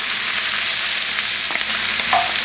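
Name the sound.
onions sautéing in a pan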